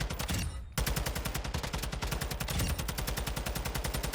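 Automatic weapon firing at the firing range in Warzone 2.0, a loud rapid burst, a brief pause, then a long sustained string of evenly spaced shots.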